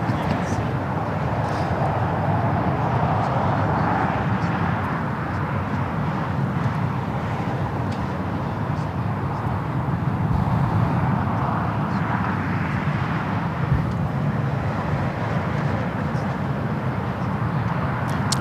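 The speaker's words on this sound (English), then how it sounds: "the Dreamliner now on taxiway Kilo heading down here to the south side" A Boeing 787 Dreamliner taxiing at Los Angeles International Airport gives a steady, broad engine rumble and roar that holds for the whole stretch, with voices talking over it.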